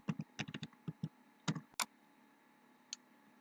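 Typing on a computer keyboard on a Windows PC, a quick run of soft separate keystroke clicks in short bursts with pauses, one sharper click near the end, close and quiet with no talking.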